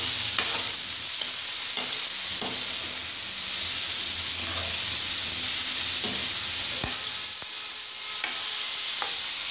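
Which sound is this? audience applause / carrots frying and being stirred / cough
carrots frying and being stirred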